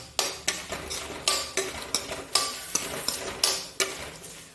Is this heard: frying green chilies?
yes